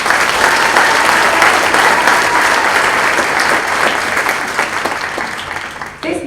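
An audience at a middle school concert applauds steadily, a dense wash of many hands clapping together that holds for several seconds before gradually tapering off.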